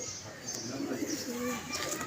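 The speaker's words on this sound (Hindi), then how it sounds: "ये देखो जी, ये दूसरा कबूतर" A pigeon kept at a pigeon club flapping its wings, soft fluttering bursts with faint cooing and bird chirps, heard outdoors at moderate distance with no one speaking.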